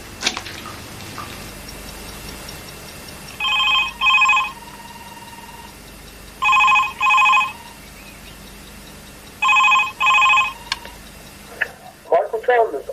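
Telephone ringing before an answering machine picks up: three double-burst electronic rings spaced about three seconds apart, loud and clear over a quiet background, followed by a click and the start of a voice.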